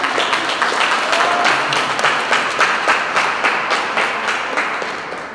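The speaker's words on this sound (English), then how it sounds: "Another round of applause, please" Audience applause at a panel discussion on increasing women's participation, a steady, dense wash of many hands clapping that stays loud and close throughout before easing slightly at the end, with no talk over it.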